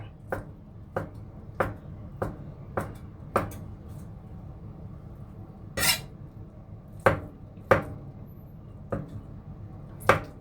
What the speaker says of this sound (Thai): เราจะมาทำส่วนไส้เราหั่นให้มันละเอียดเลยจ้า